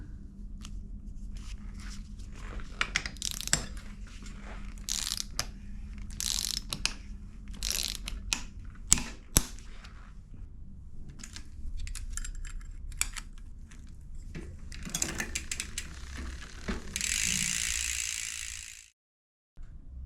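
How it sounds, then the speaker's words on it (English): A torque wrench ratchets while tightening a mountain bike chainset on a 30mm bottom bracket, with close, repeated clicking pawl sounds in irregular bursts and a steadier clicking run near the end. "The last thing I need to do is torque the chain set up."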